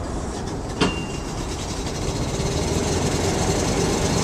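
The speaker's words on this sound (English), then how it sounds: "What we're doing here is actually starting the generator" Generator on a one-of-a-kind catering truck cranks with a sharp click, then settles into a steady, broadband running drone that grows slightly louder and continues alone with no talk.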